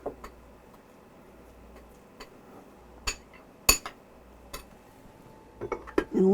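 Deviled egg yolk filling is mixed in a bowl, with light taps and clinks of utensil against the dish at irregular intervals, one sharp clink standing out. A steady low room hum runs underneath.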